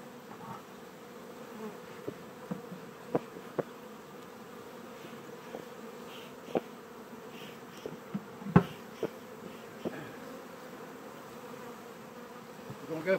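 Honey bees buzzing around a hive while honey is being pulled, a continuous close insect drone with occasional louder passes and sharp clicks and knocks of handling.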